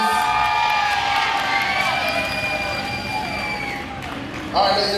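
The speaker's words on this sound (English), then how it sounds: "Big round of applause for JoJo and Santa, please." A big crowd at a wedding reception cheers and shouts, with whistles and screams rising over a dense wash of applause-like noise that continues throughout.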